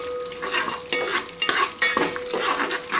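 Whole cloves frying in hot oil for egg biryani tempering in a pot, sizzling steadily while a spoon scrapes and stirs in several distinct strokes, close and fairly loud, with no voices.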